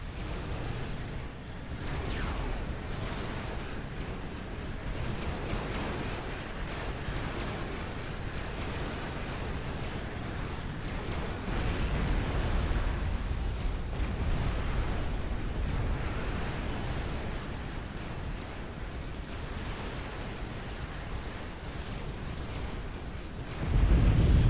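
A nuclear missile strike in Supreme Commander during a custom 4v4 battle on Seton's Clutch rumbles as a long, deep, rolling explosion, swelling in the middle and holding heavy and continuous, with a sharp boom at the very end.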